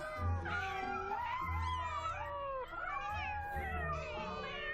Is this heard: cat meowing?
yes